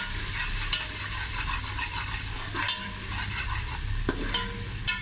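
Garlic ginger paste sizzles and fries in a pan with onions, a steady close hiss broken by occasional scrapes and clinks of a spoon stirring, no voices.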